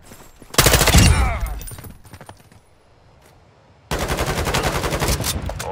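Gunfire in Call of Duty Warzone's DMZ mode: a loud, close opening burst that fades into a quiet lull, then a sustained rapid automatic stream of shots to the end.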